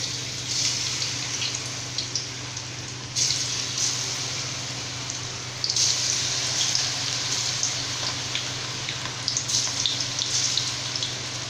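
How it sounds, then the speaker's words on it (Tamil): Cauliflower pieces frying in hot oil in a kadai on a stove, a continuous close sizzle with crackling bursts that swell and settle over several seconds, no voices. "இப்போ வந்து சில்லி போட்டு எடுக்கிறதுக்கு ஸ்டவ் ஆன் பண்ணி கடாய் வச்சு எண்ணெய் சேர்த்து சூடாயிடுச்சுங்க."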